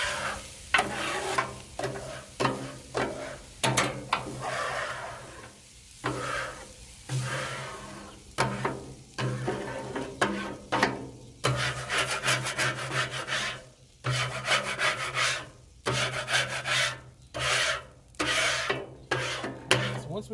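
A metal scraper rubs and scrapes old grease across a Blackstone griddle in repeated rough strokes, close and loud, with short pauses between passes.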